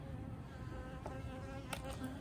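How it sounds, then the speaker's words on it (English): Honey bees hum around a backyard hive where a swarm has moved into a trap, a steady low buzzing with a few louder passes close to the microphone. "These are generally pretty nice bees."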